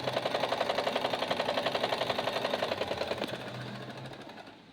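A sewing machine runs a straight stitch along a fabric edge, giving a close, steady, fast mechanical chatter with a regular pulsing rhythm that slows and fades out toward the end.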